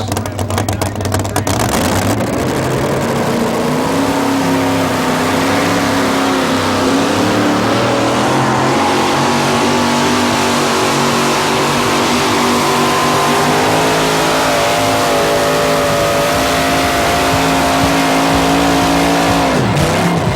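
A 700-plus cubic inch mountain motor Ford drag race car roars loud and sustained at a 1987 drag racing event, its engine pitch holding steady and then dropping off near the end.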